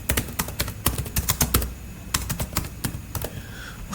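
Fast typing on a computer keyboard, a dense run of crisp, close key clicks in uneven bursts with short pauses, heard alone.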